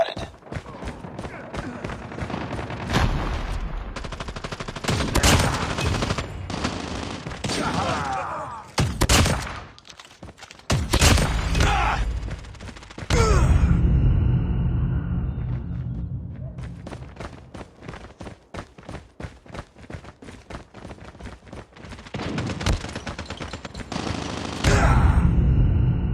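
Shotgun blasts in Call of Duty multiplayer, loud booming shots in irregular bursts mixed with other game effects and announcer voices, with quieter stretches between firefights.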